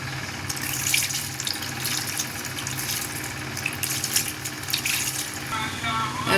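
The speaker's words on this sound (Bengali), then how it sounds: "এখন সামান্য একটু পানি দিয়ে দেব।" Water runs steadily from a kitchen tap into a bowl of hand-mixed lentil and bottle gourd dal mixture, a continuous close splashing stream that lasts several seconds.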